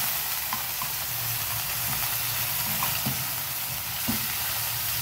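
Chicken fries in a pan after about a teaspoon of vinegar is added, with a steady, loud sizzle and hiss broken by soft scraping taps of stirring.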